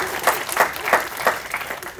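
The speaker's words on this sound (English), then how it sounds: "Didn't want the applause, stay humble." Short spell of audience applause at a business masterclass, a few distinct claps standing out in an uneven patter, with a speaker's voice running over it.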